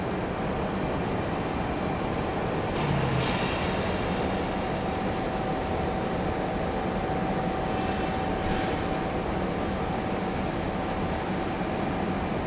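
An American airliner on final approach at Raleigh Durham airport gives a distant, steady engine drone that holds through the whole stretch against broad outdoor noise, with no talk.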